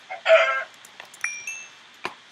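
Minecraft chickens in a game, giving a short burst of clucking and squawking followed by a few scattered softer chirps and clicks, fairly close and with no talking over it.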